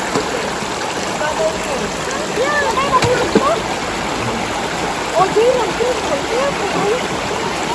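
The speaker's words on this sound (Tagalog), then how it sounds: "Ayan po ang aming ilog." Steady broadband rush of a flowing river in Silang, Cavite, Philippines, continuous and fairly loud, with faint bird chirps scattered over it.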